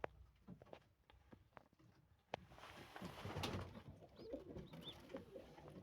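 Young sport pigeons cooing in a breeding loft, soft low coos and faint calls scattered across the clip, growing into a busier murmur of several birds partway through, close by with no talk.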